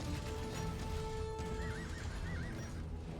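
Horses of a skirmisher group neigh and whinny in an Age of Empires II battle, with hoof clip-clops running under the calls in a dense, busy game soundscape.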